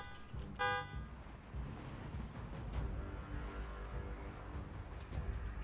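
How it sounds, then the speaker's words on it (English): A vehicle horn honks once briefly near the start in Project Zomboid, followed by low engine rumble and faint game noise. "I know honks are usually good."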